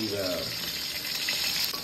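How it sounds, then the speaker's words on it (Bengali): Fish frying in a pan of oil, with a loud, continuous hissing sizzle and some stirring sounds. A voice briefly speaks at the start. "মাছ ভাজাভাজি চলছে"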